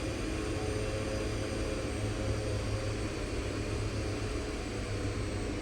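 Airliner on the ground after landing in the X-Plane 11 flight simulator, thrust reversers deployed: a steady, loud broadband engine roar with low rumble holding evenly throughout, no talk.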